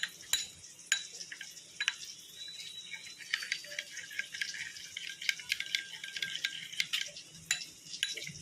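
Prawns frying in hot oil in a pan while cooking Bengali lau chingri, a steady fizzing sizzle with scattered sharp pops and crackles throughout.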